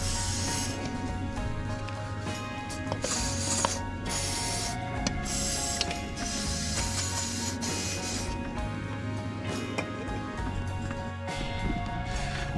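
A 3/8 ratchet works at a seized, oil-soaked bolt on a GSX250 motorcycle engine, making dense metallic clicking and scraping in close, busy bursts that run throughout without talk.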